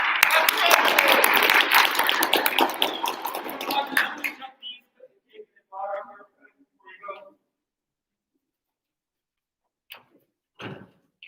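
A debate event's audience claps for a student speaker at the podium: a dense, close burst of applause lasting about four seconds, then breaking off into a few scattered faint sounds and near silence.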